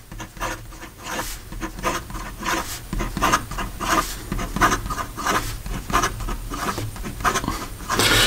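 Visconti Watermark Rainbow fountain pen writing quickly on paper, a continuous close scratchy rasp of the nib in steady rapid strokes with short pauses between words, heard alone.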